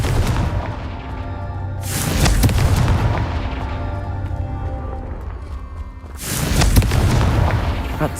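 Two heavy blasting-spell explosions go off in the video game Hogwarts Legacy, each a loud broadband boom with a long rumbling tail, the second landing about four seconds after the first over a steady game background.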